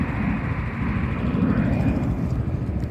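Aircraft taking off from an airport in the early morning, a steady, loud broadband engine roar with strong low rumble that holds throughout without breaks.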